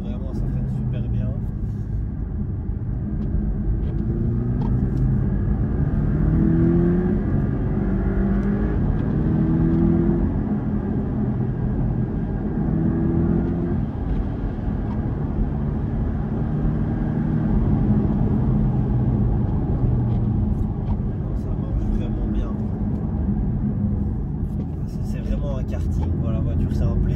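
A 2024 Porsche Cayman Style Edition drives on a soaked road, a steady low engine and tyre rumble filling the cabin throughout while someone talks over it.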